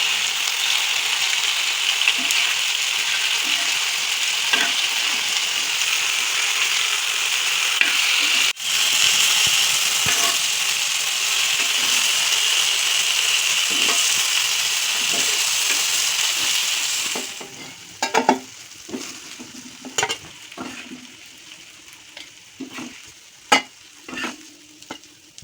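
Fish for a South Indian curry frying in a pan, a loud, steady hiss of oil for most of the time that quiets toward the end as sharp stirring clatters and scrapes take over, close by, with no voices.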